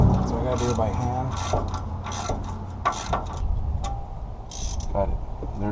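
Hand ratchet tightening a long bracket bolt while installing coil springs on a 1979 Ford F100, quick clicking strokes in short bursts, close, with a voice talking over part of it.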